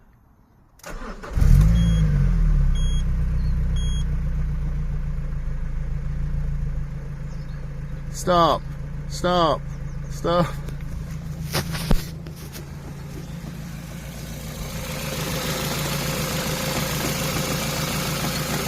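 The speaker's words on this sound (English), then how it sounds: "Look how far the engine moves when it's ticking over." A BMW X5 (E53) engine idles steadily with a low rumble and faint knocking, the engine visibly shaking, broken by a few sharp clunks and short squeals partway through; a voice speaks briefly.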